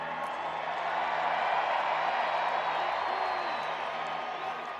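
A huge crowd at the Los Angeles Dodgers World Series championship parade roars in a steady, unbroken wash of cheering and applause, loud and continuous throughout.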